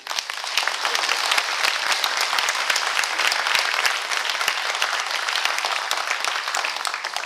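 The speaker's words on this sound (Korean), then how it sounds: "여기 오신 분들한테 우리가 잘해야 되니까 박수 한번 보내주세요" Sustained applause from an audience at a public briefing on Gangwon Special Self-Governing Province in Yeongwol, held at a culture and arts center; dense, steady clapping fills the room evenly, with no talk over it.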